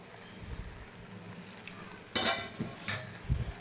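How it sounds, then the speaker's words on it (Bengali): Cabbage dropped into a pan with ginger paste and panch phoron, a quiet sizzle rising into a sudden louder burst of frying, followed by a few stirring scrapes and utensil knocks, close and fairly soft. "এই যে এখানে বাঁধাকপি বসাচ্ছি"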